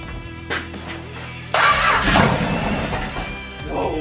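A junkyard 1974 Plymouth Cuda fitted with a motorhome 440 big block cranks briefly, then catches and roars to life, a loud, steady rumble that fills the rest of the moment.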